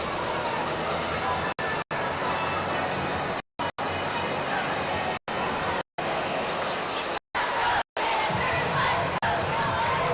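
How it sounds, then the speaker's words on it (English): A crowd at a high school football game in Frisco, Texas, a steady roar of babble and cheering from the stands, repeatedly cut by brief dropouts. "Can you hear the crowd a little bit?"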